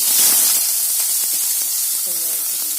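Onion, chili and curry leaves hiss and sizzle steadily in hot oil, a close, continuous frying crackle with faint speech-like bits in the background.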